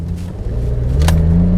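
Opel Rekord 380 CD V6 accelerating hard from inside the cabin, a smooth, steady engine drone rising in pitch and loudness over under two seconds, with a brief higher whine near the end and no talking.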